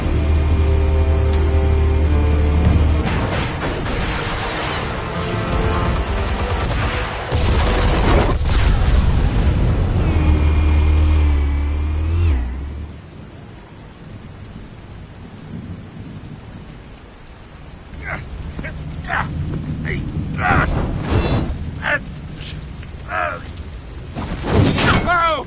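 Explosives detonate in a PS4 video game, heavy booming blasts rumbling loudly over a dense rain-like roar, then a quieter stretch before more sharp bangs return, with voices in the game.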